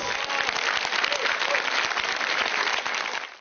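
Warm, sustained applause from the audience at a film premiere for Zhao Wei's directorial debut, dense and fairly close, holding steady before fading out at the end.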